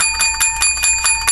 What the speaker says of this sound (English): Seven bells for Ed Norton.